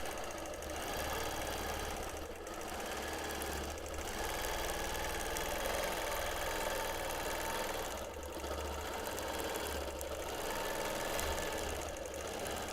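A sewing machine running steadily through free motion quilting on a quilt, a continuous close mechanical whir with brief pauses in its motion, alone with no voices.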